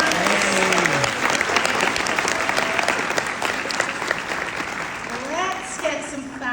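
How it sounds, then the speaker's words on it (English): Audience applause fills a fan expo celebrity Q&A panel hall, loud sustained clapping from a large crowd with cheering voices rising over it for several seconds. "Can we have a round of applause for the first part of the panel?"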